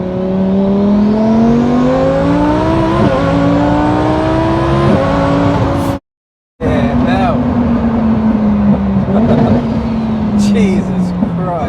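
A 1100 hp twin-turbo Lamborghini Huracan engine roars loud and close under hard revving, its pitch sweeping up through gear changes, cut by a brief silent gap before the wild wail resumes.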